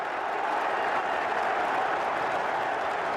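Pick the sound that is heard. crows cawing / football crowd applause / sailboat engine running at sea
football crowd applause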